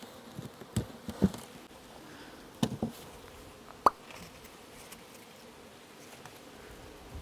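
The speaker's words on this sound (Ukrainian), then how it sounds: "бджоли почали вибирати мед з рамок, які ми розпечатали" Steady low hum of honey bees buzzing around a hive, taking honey from uncapped frames, with a few sharp knocks and taps near the start; no voices.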